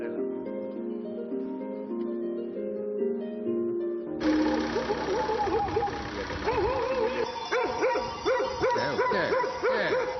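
Dogs bark repeatedly among sheep at a Sardinian shepherd's farm in Nule, with a steady engine-like hum and music-like tones beneath the yips and barks.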